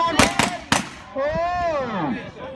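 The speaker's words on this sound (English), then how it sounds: "The shotgun. Here it goes." Shotgun blasts at a shooting competition: three sharp, loud reports in quick succession, followed by a fading ringing, whistling tone with no talk over it.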